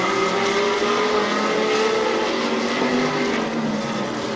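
Race cars roar steadily around the oval at Barberton Raceway Park, a dense, continuous blend of engines under racing load, loud and close throughout with no break in the noise.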